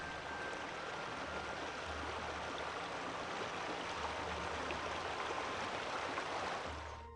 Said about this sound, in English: the river changes from a gentle flow to a raging torrent of water